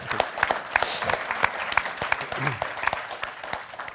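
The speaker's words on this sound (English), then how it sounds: "give a round of applause, guys." Workshop audience at a hypnotic storytelling session giving a round of applause, steady crackling claps filling the whole stretch at moderate volume with a few sharper individual hands standing out.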